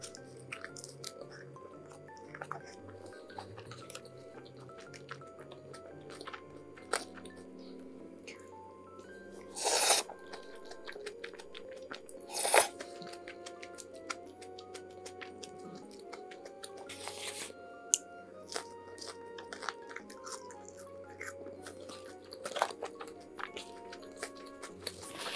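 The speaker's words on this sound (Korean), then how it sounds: "만두도 여기다 찍어 먹겠습니다." Someone eats pan-fried dumplings dipped in sauce, with close, quiet chewing and soft wet squishes, plus a few brief louder crunchy bites against a faint background hum.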